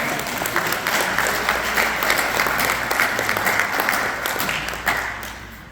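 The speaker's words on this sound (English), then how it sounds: "Give all of yourselves a big round of applause." Audience applause in a talk on self-care and burnout, a steady wash of many hands clapping that holds evenly for about six seconds, with faint voices mixed in.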